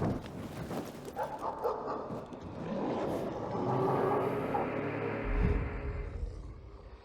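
A dog in the video game Dying Light 2 barks and whimpers amid layered game ambience and music, the calls moderately close and repeated across the scene, with a low rumble near the end.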